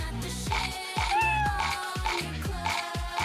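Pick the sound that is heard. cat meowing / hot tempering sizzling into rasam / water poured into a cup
cat meowing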